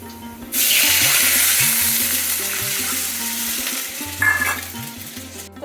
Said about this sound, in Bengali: পেঁয়াজ ভালো হয়ে গেছে এবার জল দিয়ে দিচ্ছি